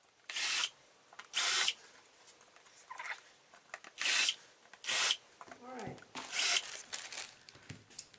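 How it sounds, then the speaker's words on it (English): A power drill drills pilot holes in a picture frame in several short, separate bursts, each a second or less, with quiet pauses and faint handling noises between. "So now I'm going to take my drill and I'm going to drill pilot holes."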